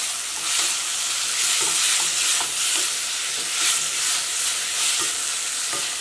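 A tomato curry with curry leaves is stirred in a pan, a continuous bright sizzle with regular soft scraping strokes of the spoon recurring about every half second, close and clear, with no talking.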